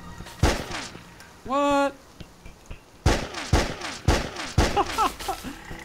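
Gunshots from a loaded gun in the hidden-object game Enigmatis 3: several loud, sharp reports fired in quick succession, with a brief electronic whine between them and a short spoken word.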